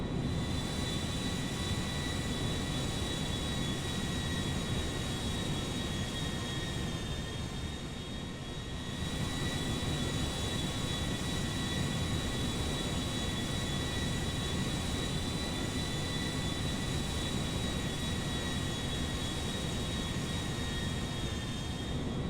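Simulated Airbus A320 jet engines in a GTA 5 mod flight game drone steadily as the airliner climbs toward cruising altitude, a loud continuous roar with high whining tones, dipping briefly midway.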